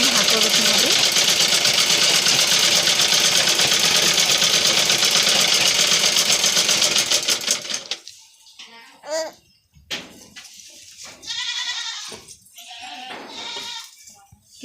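A sewing machine runs loud and steady for about eight seconds, stitching a readymade top, then stops while a voice talks.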